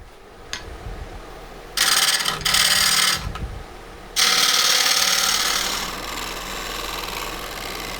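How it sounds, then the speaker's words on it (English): Negative rake scraper taking light passes across the wing of a winged burl bowl spinning on a wood lathe, in two bursts of bright, steady scraping hiss over the low hum of the lathe, the second pass longer and fading out. "Now I'm making a couple light passes here with a negative rake scraper to clean up the wing."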